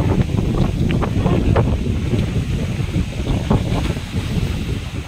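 Waves pounding against a shore under strong wind, a loud continuous roar with heavy wind buffeting the microphone throughout.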